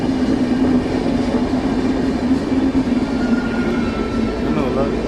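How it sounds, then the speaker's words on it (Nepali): A very long electric train rolls past at close range, a continuous loud rumble of wagons with rhythmic wheel clatter, while someone talks over it. "धेरै लामो ट्रेन रहेको छ यो। यो ट्रेन गइरहेको छ"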